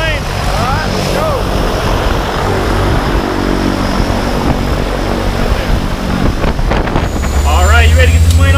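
A propeller skydiving airplane's engine drones loudly and continuously up close, a heavy rumbling roar that swells near the end, with bursts of people talking over it.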